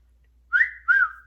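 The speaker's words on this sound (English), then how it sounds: "So anyway, so yes, I whistle." A person whistles two short, clear, close notes, the first rising slightly and the second held a touch longer, with silence before and after.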